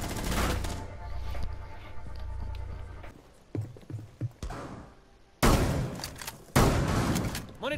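Shotgun gunfire in the video game Rainbow Six Siege, loud booming blasts with a dense burst at the start, scattered thuds and clicks in the middle, then two heavy sharp shots near the end, with no talking.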